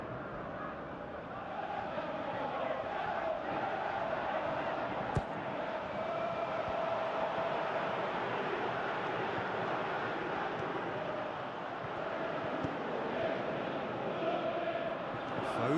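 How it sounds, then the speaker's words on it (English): A stadium crowd in the football video game PES 2018 roars in a steady, broad wash of cheering that holds at an even level throughout, with one brief sharp thump partway through. "Well, at least the crowd are appreciative of his efforts."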